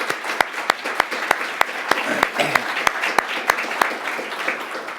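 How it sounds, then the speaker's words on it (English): Sustained audience applause for sponsors at a September 11th remembrance symposium, a full, steady wash of clapping with sharp individual claps standing out throughout. "So could you give them a round of applause at the highest level?"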